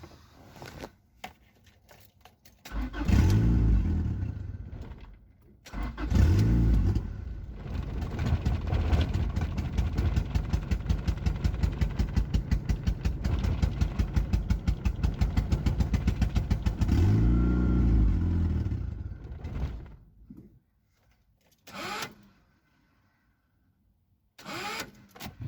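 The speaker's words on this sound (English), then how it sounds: "it did not seem to be running so great on this ECU" A turbocharged Honda Accord engine on an eBay-bought tuned ECU, running poorly, fires with loud bursts, then revs roughly and unevenly for a long stretch before cutting out, followed by a few short sputters.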